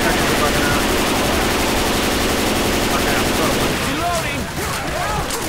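Left 4 Dead 2 gunfire: continuous loud rapid automatic shooting filling the clip, with speech layered over it toward the end.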